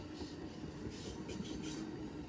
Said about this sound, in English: Amtrak, southbound, Jesup, Georgia.